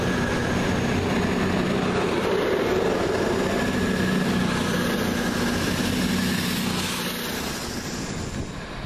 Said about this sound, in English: Just now departing the slightly delayed 11:55 cross-country service from Manchester Piccadilly to Bournemouth via Oxford, Reading and Basingstoke